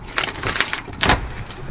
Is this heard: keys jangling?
yes